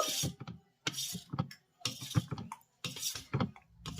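A spoon stirs beetroot juice into carrot malpua batter in a bowl, giving four short bursts of scraping and clinking against the bowl with quiet gaps between strokes, close up and with no talking.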